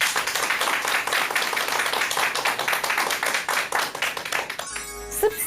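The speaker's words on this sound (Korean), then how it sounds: "여러분 큰 박수 부탁드립니다." Audience applause at a talk-show lecture on grandparent childcare, dense steady clapping from many hands, fairly close, ending with a brief musical flourish.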